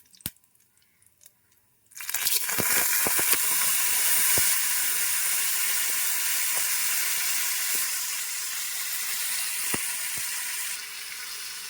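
Broad beans dropped into hot oil with curry leaves burst into a loud, continuous sizzle after a quiet start, the hiss holding steady with occasional crackles and spatula scrapes.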